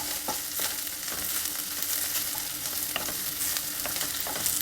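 Capsicum and other vegetables fry over a high flame, a dense continuous sizzle punctuated by the repeated scrape and tap of a stirring spoon.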